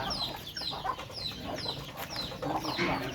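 Chickens on a Thai farm clucking and murmuring in a steady, busy chorus of overlapping calls, fairly close, with no one talking.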